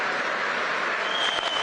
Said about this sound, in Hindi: ना मैं करूं तो ताली बजाते हो,